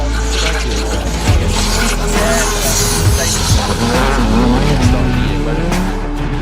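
A Rally 2 car races flat out on an asphalt rally stage at the Legend Fires North West Stages 2024, its engine roaring loud and close throughout, with tyre squeal and rumbling road noise.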